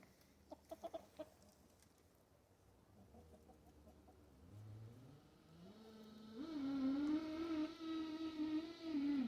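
Homestead chickens cluck softly and sparsely, then a louder, sustained fowl call rises and holds in the second half, fairly close and with no talking.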